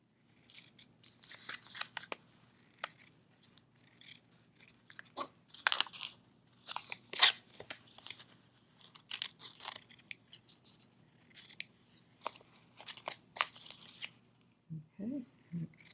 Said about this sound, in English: use your scissors to cut all the way around the black line.